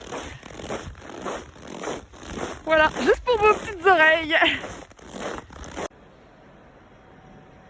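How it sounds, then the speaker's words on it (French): Rhythmic crunching footsteps in fresh snow, several squeaky compressions in a row, close and fairly loud, with a voice speaking briefly over them before it falls quiet. "Le bruit de la neige fraîche qui craque."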